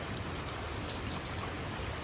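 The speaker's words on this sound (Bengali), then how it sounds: "বৃষ্টি এখন একটু কমে গেছে আগের থেকে" Steady rain falls outdoors around a bird enclosure, a dense, even hiss of drops on surfaces that stays constant throughout with no voices.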